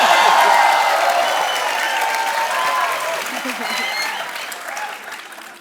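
Audience applause at a live comedy show, a broad wash of many hands clapping that starts strong and slowly tapers over several seconds, with crowd voices mingled in.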